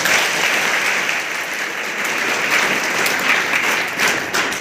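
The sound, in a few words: audience applause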